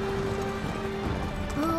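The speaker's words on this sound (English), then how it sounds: "Horse." Horse hooves clip-clop in Uncharted 3: Drake's Deception, a steady run of hoof beats under game music and ambience, with a faint tonal hum throughout.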